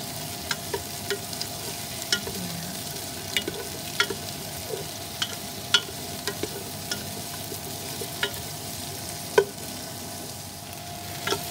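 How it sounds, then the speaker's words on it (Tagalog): Garlic and onions sautéing in a pan for turkey breast soup, a steady close sizzle with regular sharp clicks of a utensil stirring against the pan. "And now I'm sauteing the garlic and onions."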